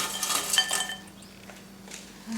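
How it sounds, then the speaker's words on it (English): Crispy air-fried chips tipped into a bowl from a Philips XXL airfryer, a short burst of light clinks and rattling scrapes, then quieter faint handling noises with no speech. "So let me just put this in a bowl."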